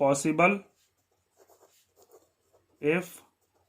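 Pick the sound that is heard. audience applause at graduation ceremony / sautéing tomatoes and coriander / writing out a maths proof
writing out a maths proof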